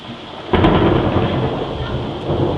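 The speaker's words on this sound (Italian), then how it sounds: "Ed ecco arrivato il temporale." A loud thunderclap breaks over a steady downpour during a thunderstorm at Premantura, then rolls into a long rumble while heavy rain keeps hissing.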